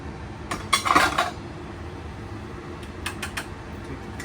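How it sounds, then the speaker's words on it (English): Metal potato masher working boiled potatoes and turnips in a pot, a few muffled clinks and knocks in two short bursts, faint against a steady background hum. "Potato masher, and we're going to add some butter to this. Mash it together."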